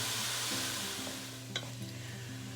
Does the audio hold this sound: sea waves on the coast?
no